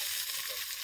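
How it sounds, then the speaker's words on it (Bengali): Onion and ginger-garlic paste frying in oil in an outdoor jungle cooking setting: a steady, close bright sizzle with a constant hiss and no breaks. "পেঁয়াজ আর আদা রসুন এটাকে আমরা সুন্দর করে ব্রাউন করে ভেজে নেবো আর কি।"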